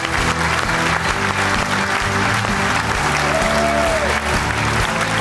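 A studio audience on a sports-themed TV show breaks into loud, sustained applause as an honored Armenian artist and singer is welcomed onstage, with music playing beneath the clapping.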